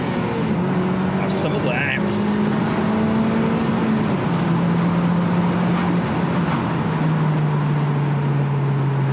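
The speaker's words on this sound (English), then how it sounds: "Beautiful bit of VTEC." A Honda VTEC engine revs up while driving on an open road, its rising and falling drone steady and fairly close through the cabin, with a brief spoken remark partway through.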